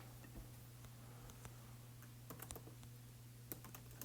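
Scattered keystrokes on a computer keyboard while typing in a Google Doc, faint and close, with irregular taps clustering toward the end over a low steady hum.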